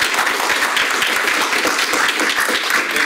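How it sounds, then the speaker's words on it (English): A lecture audience claps for Professor Tadiar at the close of a talk, giving a dense, even round of applause that runs steadily from start to finish with no voices over it. "give Professor Tadiar a round of"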